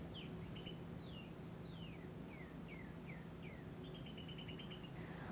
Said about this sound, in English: They have this little high-pitched call that's pretty similar to the adults, but it's squeakier and babyish.